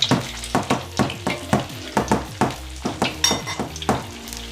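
Noodles frying and being stirred in a pan, with a utensil scraping and clacking in a steady rhythm about every half second over a soft continuous sizzle, close and fairly loud with no talking.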